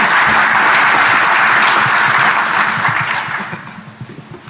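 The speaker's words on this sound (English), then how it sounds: "Round of applause for Dan for taking the bullet for me." An audience at a Defcon 21 conference talk breaks into loud, dense applause that holds steady, then thins and fades into scattered claps toward the end.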